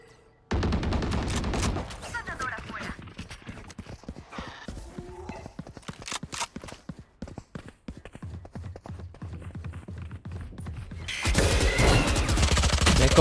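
Video game gunfire, with a shotgun among the weapons, comes as a rapid run of sharp clattering shots over steady game ambience, ending in a louder noisy burst.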